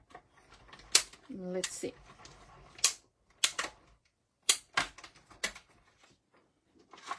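A hand-cranked die-cutting machine runs papercraft cardstock through to cut it, giving a series of sharp clicks and ratcheting bursts while someone speaks briefly.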